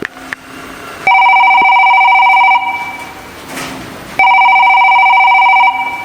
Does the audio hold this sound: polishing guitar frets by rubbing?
no